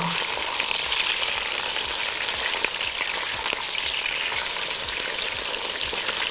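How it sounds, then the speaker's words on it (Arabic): Meat searing in a hot cooking pot with nothing added yet, a loud, steady sizzle and crackle with occasional stirring scrapes, close and continuous. "كده انا نزلت اللحمه بدون ما احط اي حاجه ولا احط لها اي حاجه خالص، احنا عايزين نشوحها"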